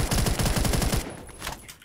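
Rapid automatic gunfire in a video game rattles out as a fast, even burst for about a second, then cuts off and leaves fainter game noise. No one talks.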